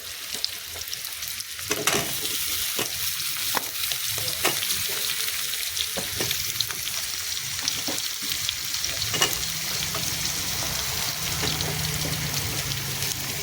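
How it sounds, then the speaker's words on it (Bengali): Onion and papaya frying together in a pan for a banana flower dish, a continuous soft sizzle with scattered crackles and occasional stirring knocks, moderately close. "পেঁয়াজের সঙ্গে একটু লাল করে ভেজে নেবো"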